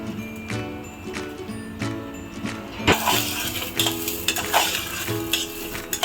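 Whole spices being dry-roasted in a pan for a Maharashtrian chana soyabean dish: a soft background hiss gives way to louder sizzling and scraping, with clinks of a spoon against the pan.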